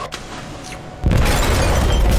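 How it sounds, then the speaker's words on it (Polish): A deep, loud explosion on the Jericho ship in the video game Detroit: Become Human bursts in after a second of quiet, then rumbles and roars at full volume through the rest of the clip. "Ale eksplozja!"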